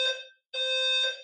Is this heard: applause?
no